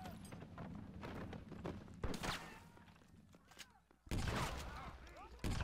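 Shotgun blasts in the Western video game Red Dead Redemption, loud sharp booms at about two and four seconds with smaller gunfire bursts and thuds, mixed with game ambience and a speaking voice.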